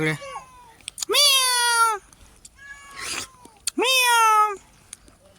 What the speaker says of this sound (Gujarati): આપણી બિલ્લી આવી ગઈ છે